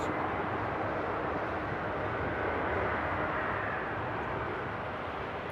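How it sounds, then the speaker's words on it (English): A Croatia Airlines airliner lands at Amsterdam Airport in rain and changing winds, producing a steady, loud, broad jet roar that holds throughout with no talking. "Oh, Croatia Airlines coming in from Zagreb."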